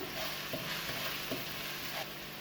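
Chopped garlic sautés in oil in a pan with a steady, close hiss and a few soft scrapes from stirring at regular intervals.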